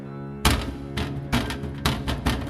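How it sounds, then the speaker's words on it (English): Loud, heavy banging on a door, a series of about five hard thuds in uneven bursts, close and forceful, rising over a low background hum. "there's banging on the door."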